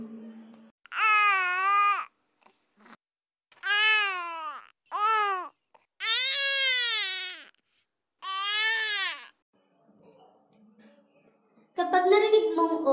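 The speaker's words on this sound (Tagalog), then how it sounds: "Kapag narinig mong O ang sounds ng iyak ni baby, ibig sabihin ay need nang magpahinga o matulog ni baby." A tired infant cries in a series of loud, drawn-out wails with short silent breaks between them, followed near the end by a brief fussy whimper.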